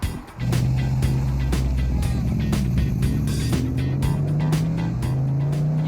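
A beautifully finished V8 engine, fitted to a 1970 Volvo F88, runs steadily and loudly up close, a deep continuous rumble with a gently rising drone throughout.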